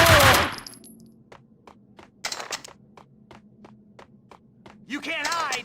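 Gunfire from the PC game Max Payne 2: The Fall of Max Payne: a loud opening blast followed by a steady series of sharp single shots, with bursts of rapid fire and a shouting voice near the start and end.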